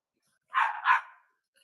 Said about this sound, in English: there's a dog barking or there's somebody mowing their yard